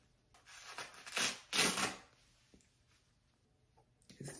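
Relaxed hair being unwrapped from a roller set: soft rustling and rubbing comes in swells, loudest in two close bursts early on, then a quieter gap and a brief rustle at the end.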